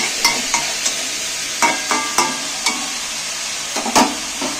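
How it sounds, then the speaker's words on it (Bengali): A spoon scrapes and stirs potatoes frying in oil in a pan for ekadashi aloo bhuna, sharp intermittent clinks and scrapes over a soft constant sizzle, close and clear with no talk. "এইবার আমি তেলের মধ্যে ভালো করে নাড়াচাড়া করে ভেজে নেব"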